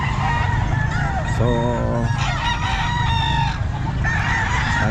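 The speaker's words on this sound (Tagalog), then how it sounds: "maraming mga manok" Many gamefowl roosters and hens at a Tuesday pet market in Calumpit, crowing in long drawn-out calls and clucking over a dense, busy crowd of birds, loud and close, with a brief word of speech.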